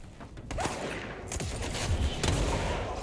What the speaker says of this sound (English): Let's use the other gun, the one with the rockets. So this is a rocket launcher.